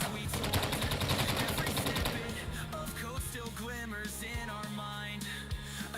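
Shooting in the video game MindsEye rattles fast and loud for the first two seconds, then gives way to quieter game sounds and tones with a few thuds.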